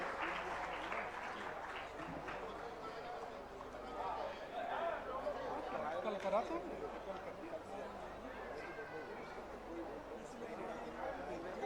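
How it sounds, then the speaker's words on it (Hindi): Applause from an audience at a Jain religious gathering, a faint, sustained patter of clapping mixed with crowd chatter and voices, continuing for over ten seconds. "जरा जोरदार तालियां"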